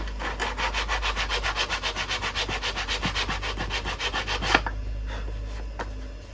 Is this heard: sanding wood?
yes